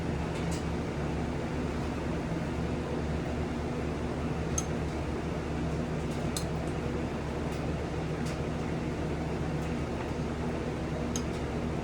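A fan sitting just below the camera runs with a steady, even hum, joined by a nearby air conditioner's drone, with faint scattered ticks over the constant noise and no voices.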